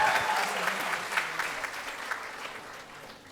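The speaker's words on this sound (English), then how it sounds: "I think one round of applause for Mr. Arbaaz Khan once again." Audience applause for Arbaaz Khan, chief guest at an entrepreneurship program event in Ahmedabad, a steady dense clapping from a crowd that fades slightly over its few seconds, with no speech over it.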